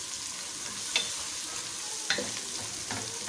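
Ginger garlic paste with garam masala sizzles steadily in a hot pan, a constant close frying hiss broken by a few sharp scrapes of stirring.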